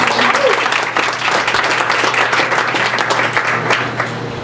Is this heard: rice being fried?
no